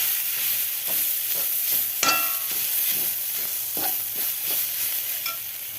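Grated coconut for a chammanthi is stirred and sautéed in a pan, with a soft continuous sizzle under repeated scraping strokes of a spoon and one sharper clatter partway through.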